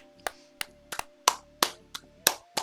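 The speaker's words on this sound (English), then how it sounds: "I applauded." Scattered, slow hand claps from the Everlasting Summer video game, about eight sharp separate claps at an uneven, unhurried pace, clear and fairly close with no voices.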